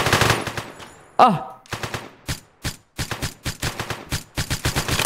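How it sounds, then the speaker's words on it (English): Gunfire in a video game about robbing a jewelry store, with rapid bursts of automatic shots and scattered single cracks that come in uneven clusters, loud and close, plus a brief spoken exclamation. "I think I just got shot at."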